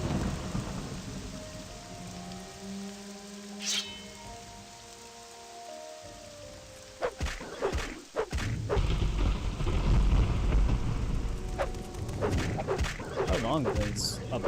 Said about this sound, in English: it changes the sound of the thunderstorm when you're underwater